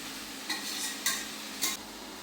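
Small river fish frying in a pan with tomato pieces, a steady sizzle broken by three brief scraping stirs spaced about half a second apart.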